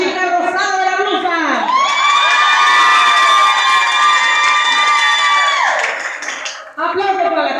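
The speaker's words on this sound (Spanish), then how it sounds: "¡Aplausos para la chica rosada de la blusa!" A crowd at a bachelorette party show screams and cheers in a sustained, high-pitched roar, with whoops and some clapping, loud and close, fading near the end before voices rise again.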